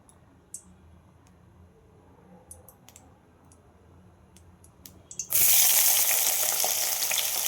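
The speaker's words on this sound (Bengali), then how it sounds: "বেগুনগুলো ভেজে নেব।" Small cut eggplant pieces drop into hot mustard oil in a wok, a few quiet clicks first, then a sudden loud, steady hiss of frying that fills the rest, with no talking.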